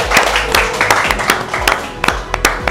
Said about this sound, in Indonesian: Kasih tepuk tangan yang terbaik untuk Yesus.